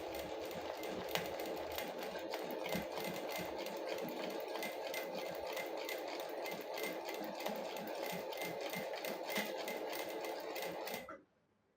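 A sewing machine stitching a wavy line runs at a steady, rapid rhythmic whir for about eleven seconds, then stops abruptly, close and alone without talk.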